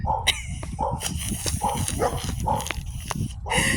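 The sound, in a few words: dogs barking in background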